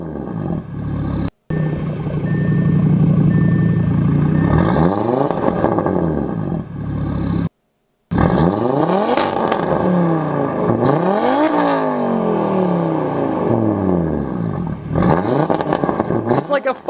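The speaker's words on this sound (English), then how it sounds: "This one is apparently straight piped with a custom Bull X exhaust." Straight-piped car fitted with a custom Bull X exhaust, revving loud and close in repeated rising roars and bursts, one brief dropout partway, with voices talking over it.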